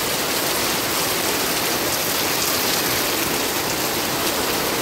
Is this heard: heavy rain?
yes